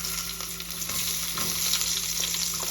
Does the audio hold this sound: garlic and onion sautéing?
yes